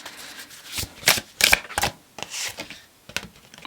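A deck of oracle cards is shuffled by hand in a quick run of papery riffles and slaps, close and fairly loud, with brief pauses between bursts and no talking.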